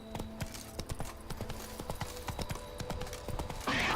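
Roach, Geralt's horse in The Witcher 3 video game, gallops with a fast, even clip-clop of hooves, moderately quiet and steady throughout, ending in a brief burst of louder noise.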